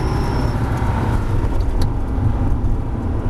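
Porsche GT3 accelerating on a race circuit, its engine a steady, heavy rumble heard from inside the car, continuous and fairly loud throughout with no talk.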